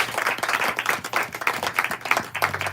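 An audience at an improvised music jam session in Brooklyn claps by hand, a dense burst of many overlapping claps from a small indoor crowd, close and steady throughout.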